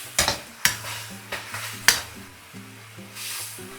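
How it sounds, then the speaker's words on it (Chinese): Eggplant is stir-fried over high heat with soy sauce, oyster sauce and garlic stems: loud spatula scrapes and knocks at irregular intervals over a continuous sizzle, with a low steady hum behind. "再放入蒜梗，大火翻炒均匀，让茄子充分入味"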